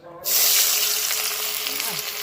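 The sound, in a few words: chopped onions frying in hot mustard oil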